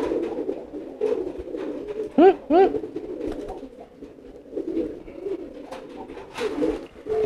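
Pigeons cooing, a couple of clear rising coos close by in the middle, then softer coos scattered around, under someone talking in Indonesian.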